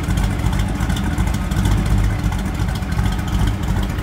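1931 Ford Model A roadster street rod with a 350 small block V8 idling, a steady low rumbling exhaust heard from behind the car, close and continuous with no speech.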